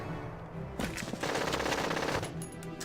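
A burst of rapid automatic gunfire from the video game Valkyria Chronicles erupts after a brief lull and rattles on loudly for about a second and a half before cutting off.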